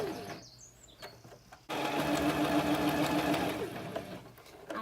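A sewing machine stitches a fabric drawstring bunny gift bag, with quiet handling noises first, then a steady, loud, close mechanical whirring that runs for several seconds without any speech.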